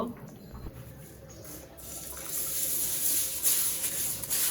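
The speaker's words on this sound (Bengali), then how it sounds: "এখন ডালটা ধুয়ে নিব" Masoor dal lentils are washed under running water: a steady rush of pouring water builds and grows louder partway through, close by, with occasional splashes.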